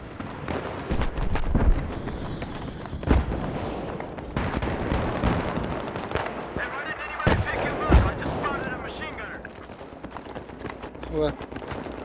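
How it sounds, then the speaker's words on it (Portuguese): Enemy gunfire in a Battlefield 3 multiplayer match on the Strike at Karkand map, heard as scattered sharp shots and bursts of varying distance within a busy, noisy game soundscape, with someone talking over it. "Escutei ter ouvido algum tiro ali de inimigo."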